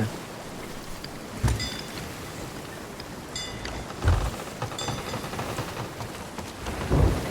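Steady rain hiss fills a video game storm, with several heavy thunder-like thumps rolling in at intervals over the downpour.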